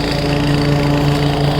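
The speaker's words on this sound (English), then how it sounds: "I'm gonna get away from this lawnmower." A lawn mower engine runs nearby, loud and steady with a constant droning hum throughout, heard alone.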